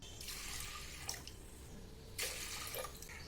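Water poured into a pressure cooker holding washed lentils for tomato dal, a soft splashing stream in two short bursts, fairly quiet, no talking.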